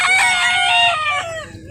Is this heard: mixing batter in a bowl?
no